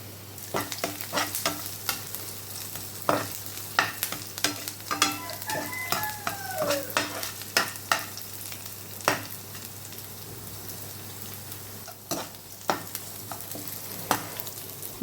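Horse gram gravy simmers and thickens in a pan, giving a soft, continuous bubbling sizzle broken by frequent quick clicks and scrapes of stirring, close and fairly quiet, with no voices.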